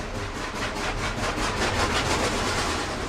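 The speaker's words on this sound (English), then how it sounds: "Watch now up on the right as the drive rods spin out of control" A C&O 2765 steam locomotive climbing a grade in a gorge loses traction, its drive wheels slipping into a rapid, rushing series of loud chuffs over a continuous rumble.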